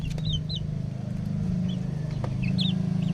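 Chickens and young chicks cluck softly over a steady low hum, with a few brief higher chirps scattered throughout.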